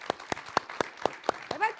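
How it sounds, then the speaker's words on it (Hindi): An audience at a televised debate show claps in a steady, rhythmic beat of sharp, evenly spaced claps, with a voice briefly rising at the end. "जोश से बजाइए ताली"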